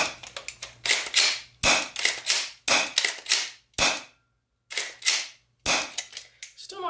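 A plastic airsoft tactical shotgun is worked repeatedly up close, giving a series of sharp, hollow clacks and bursts of rattling noise separated by short pauses.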